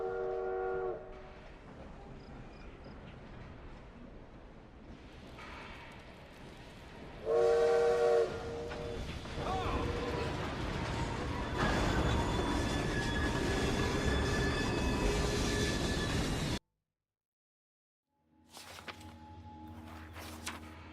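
A train in Assassin's Creed Syndicate rolls along steadily with a continuous rumbling clatter, punctuated by a brief whistle-like tone midway, then cuts to silence before a short burst of tonal mechanical sound at the end.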